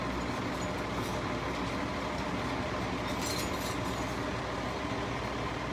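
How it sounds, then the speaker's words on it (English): The slide-out motor of a 2020 Grand Design Momentum 29G travel trailer toy hauler extends the slide with a loud, steady, unbroken mechanical drone and whir. A few words are spoken briefly partway through. "Now I'm going to put the slide out."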